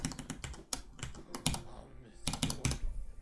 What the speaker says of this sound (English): For these beautiful, beautiful brown switches.